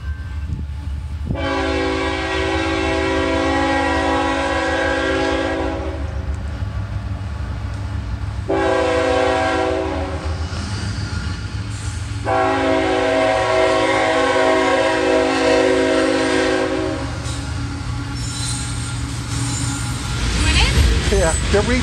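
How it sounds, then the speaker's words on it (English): A train rolls through the small town of Wartrace, Tennessee, sounding three long, loud horn blasts over a steady rumble of rail cars, with people talking nearby. "Railroad's coming through Wartrace."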